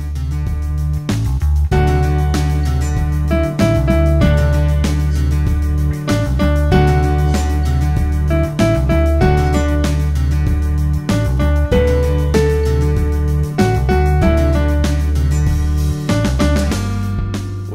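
Piano playing a section of a song, a steady rhythmic pattern of bass notes and repeated chords, loud and close, with no talking.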